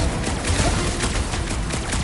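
Rocket's fireworks attack in the video game Guardians of the Galaxy, a dense burst of rapid crackling blasts and explosions, loud and continuous for about two seconds.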